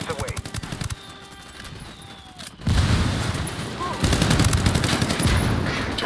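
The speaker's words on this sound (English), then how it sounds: "I called the rebels for mortar fire." Rebel mortar fire in the video game Ghost Recon Wildlands, a sharp onset of heavy blasts and rumbling gunfire that swells again after a pause, loud and layered over the game's background sounds.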